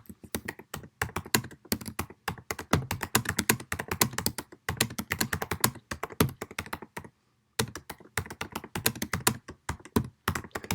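Rapid, continuous clatter of keys being typed on a computer keyboard, close and steady, with a couple of brief pauses.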